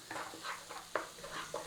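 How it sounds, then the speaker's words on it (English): Spices cooking in onion paste in a pan for a mushroom Madras, a soft, steady sizzle with a few quiet stirring scrapes, close and low in volume. "these spices are still cooking in the paste"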